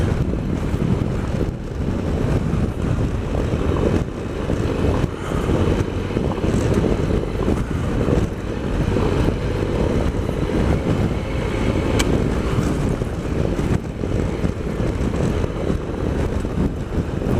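Strong wind buffets the microphone continuously while riding a Triumph Explorer XCa motorcycle, a loud rough rumble with gusty bursts throughout and no talking.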